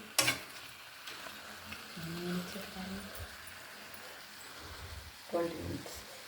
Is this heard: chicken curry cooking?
yes